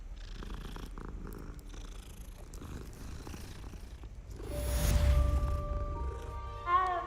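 A cat purring in Hogwarts Legacy: a soft, low, continuous rumble that swells toward the end, with faint game ambience and chiming tones around it.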